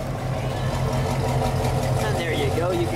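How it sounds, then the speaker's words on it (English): Idling engine of a 1974 Pontiac GTO, a steady low rumbling exhaust note held continuously throughout at moderate loudness, with people talking faintly over it. "You can kind of hear the exhaust note there as you're listening."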